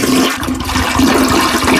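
A toilet flush sound effect plays loud and close during a sports radio show, a steady rushing, gurgling swirl of water lasting a couple of seconds with no voices over it.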